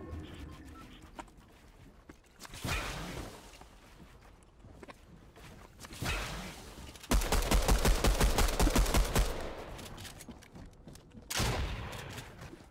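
Shotgun blasts in Fortnite come as several loud, separate bursts, with one longer stretch of rapid repeated fire in the middle, all over quiet game ambience.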